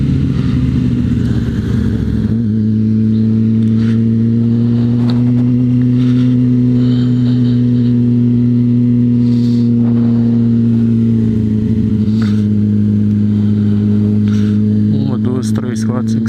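A group of motorcycles including a Yamaha XJ6 rides along the BR-040 highway, a loud continuous engine drone with steady mid-pitched hum close to the microphone, with wind buffeting and a voice talking over it.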